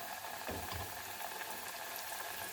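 Breaded chicken fillet strips, dredged in flour, fully submerged in hot oil and frying with a steady, close bubbling sizzle that continues without pause, with no talking over it.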